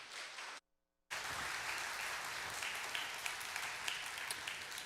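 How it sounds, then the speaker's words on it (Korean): A church congregation breaks into sustained, dense applause to welcome a pastor to the pulpit at a Sunday service, broken by a brief dropout of silence before the clapping resumes steady and full. "우리 남 목사님 우리 큰 박수로 환영하도록 하겠습니다"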